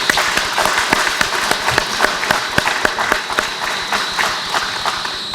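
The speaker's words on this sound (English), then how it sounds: "let us show a hand of applause for his accomplishment" A seated audience at an African literary event applauds in honor of a writer, sustained, even clapping with some sharper nearby claps standing out throughout.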